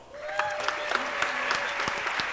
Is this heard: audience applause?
yes